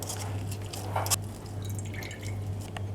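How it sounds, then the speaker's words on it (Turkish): Juice from grated onion drips as the pulp is pressed with a spoon through a strainer, with small wet drips and squishes over a steady low hum, close and quiet. "Kaşık yardımıyla bastırarak iyice suyunun akmasını sağlıyorum"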